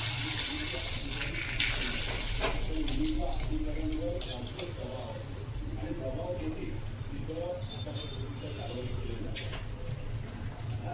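Tap water runs steadily over chopped pumpkin being washed in a kitchen sink, a continuous close splashing stream with someone talking over it throughout.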